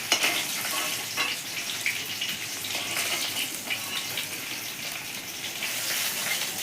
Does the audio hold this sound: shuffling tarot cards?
no